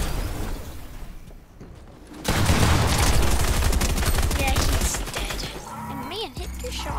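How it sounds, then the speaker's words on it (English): Video game gunshots in a 3v3v3v3 match, a dense rapid burst of automatic fire that runs for several seconds at close range, followed by quieter game sounds. "Shots."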